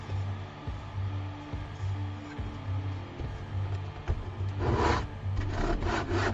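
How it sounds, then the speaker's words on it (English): A piece of wood is hand-sanded with sandpaper on a workbench, giving rhythmic back-and-forth rubbing strokes that grow rougher and louder near the end, over a low steady hum. "most of my time is going to be sanding these things down, getting the edges straight"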